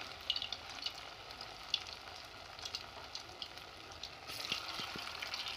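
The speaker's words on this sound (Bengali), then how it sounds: "সবগুলো আমি এইভাবে কড়াইয়ের মধ্যে দিয়ে আমি ভেজে নেব।" Bread snacks deep-fry in oil in a kadai, a soft continuous sizzle and bubbling with small crackling bursts and a few light knocks toward the end.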